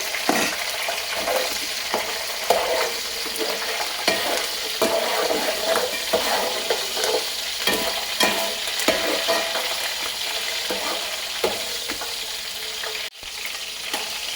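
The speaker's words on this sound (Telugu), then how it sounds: "పచ్చిమిర్చి ఇవన్నీ కూడా వేసి వేగించుకోవాలండి" Curry leaves and green chillies frying in hot oil for a Bhimavaram-style fish curry tempering, a loud steady sizzle close up with occasional stirring scrapes and spatters, no voices.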